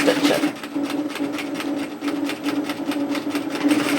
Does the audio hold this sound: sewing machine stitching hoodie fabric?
yes